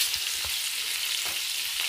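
Crushed garlic sautés in a pan for white sauce pasta, a soft continuous sizzle with a few light stirring scrapes, close and steady, with no talking.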